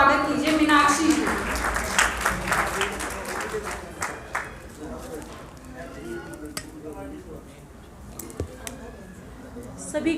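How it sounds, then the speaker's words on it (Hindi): An audience at a national convention of a social organization claps to welcome a speaker. Strong, dense applause in the first few seconds gradually thins out into sparse, scattered claps and quieter room noise. "उनके लिए जोरदार तालियों से स्वागत कीजिए मीनाक्षी जी"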